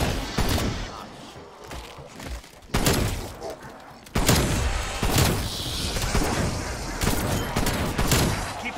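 Shotgun gunfire in the Call of Duty Cold War Zombies video game: loud, sharp blasts come every second or so, mixed with thuds and game clatter.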